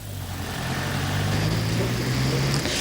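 Traffic rumbling along a busy street lined with noise barriers, a continuous low engine drone of cars and heavier vehicles passing steadily at moderate distance, no talking.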